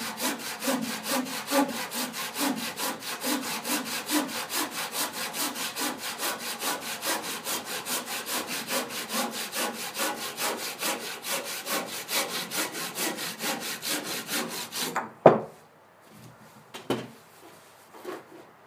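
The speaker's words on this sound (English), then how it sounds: "Once it gets a little bit tight, because it'll be pinching the blade, you can just release it off a bit and then follow the cut line down." A hand saw cuts through the chine of a wooden boat where it meets the stem, steady rhythmic back-and-forth strokes for about fifteen seconds, close and clear, then stopping with a couple of knocks as the offcut comes free.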